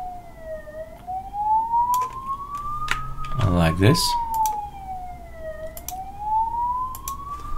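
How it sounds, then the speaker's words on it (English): A Belgian emergency vehicle siren wails in slow rising and falling sweeps throughout, loud and steady, with a brief burst of clatter in the middle and someone speaking briefly over it. "That's our sirens in Belgium,"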